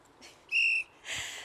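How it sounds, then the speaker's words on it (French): A referee's whistle blows a short, sharp blast to signal a round of a team game with cans, followed by a softer, breathier second blast. "dès que le sifflet retentit"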